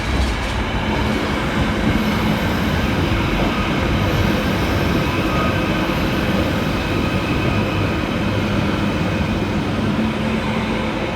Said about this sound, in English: Arriving next into the station is 777-152, working the 1228 Merseyrail electric service from Headbolt Lane through to Liverpool